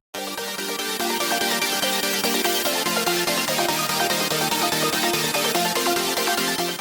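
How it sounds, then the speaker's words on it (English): A synth pluck melody over a trap beat repeats short bright notes in a steady pattern, loud and sustained throughout with no voices. "added a pluck melody"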